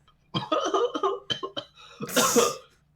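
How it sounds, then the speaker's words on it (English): A close, wet cough comes in a rapid run of bursts, ending in a harsher, breathy hack; no one speaks. "I was laughing through a cough"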